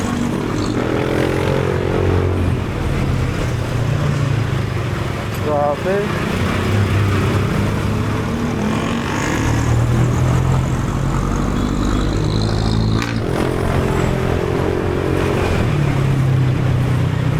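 Busy road traffic heard from a rider's point of view, a constant rumble of car and motorcycle engines with rising and falling revs close by, while someone speaks briefly over it.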